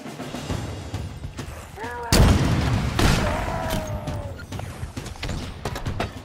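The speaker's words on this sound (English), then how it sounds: "next to this soldier, we can find a rocket launcher that we can use against him" A rocket launcher fires in the video game Halo Infinite, two heavy booming blasts in quick succession over ongoing in-game combat noise and brief tonal effects.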